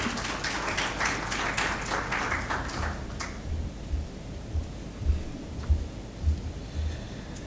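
Audience applause at a finance conference welcomes a speaker, moderately loud and steady for about three seconds, then thins to a few scattered claps and soft low thumps in a quiet room.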